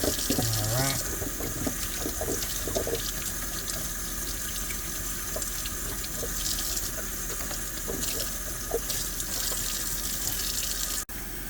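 Tap water runs steadily into a sink, rinsing sweet ajicito dulce peppers, a continuous close splashing hiss with faint clatter throughout, cutting off abruptly near the end.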